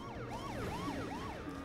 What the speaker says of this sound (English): But it has the sirens.